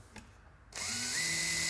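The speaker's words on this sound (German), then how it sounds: "Und vorne machen wir es jetzt mit 2 Schrauben fest." A cordless power drill driving screws to mount a camera on a Fiat Ducato van. After a quiet moment the motor whirs up loud and close, its pitch climbing as it spins up.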